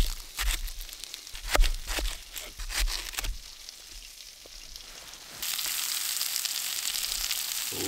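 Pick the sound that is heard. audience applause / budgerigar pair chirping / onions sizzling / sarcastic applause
onions sizzling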